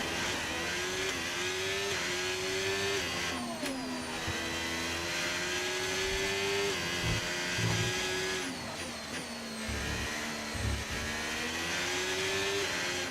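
A Formula 1 car engine in F1 25 screams steadily at high revs, its pitch rising through the gears with brief dips on downshifts, loud and continuous, with no voices.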